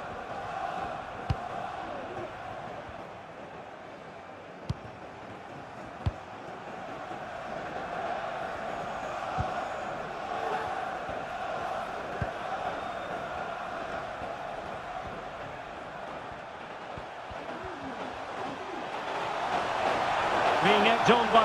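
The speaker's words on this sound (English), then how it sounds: "Being egged on by the crowd." Steady crowd roar from a FIFA video game football match between Arsenal and Manchester United, a continuous stadium din swelling louder toward the end, with a commentator speaking over it.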